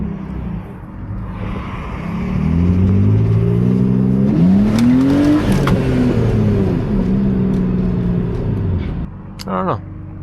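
A BMW E46 with an angle kit driving and drifting, its engine droning and rising in pitch as it revs, loud and close, with speech over it.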